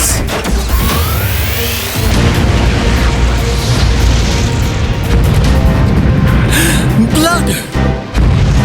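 A cartoon flame attack bursts into a loud booming explosion in an animated Hindi car-race series, with a sustained roaring blast and crashing impacts under excited voices and battle music.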